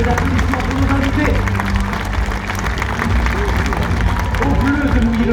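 An audience at a Parc Astérix diving show applauds loudly and steadily, dense clapping and crowd noise under an announcer's amplified voice.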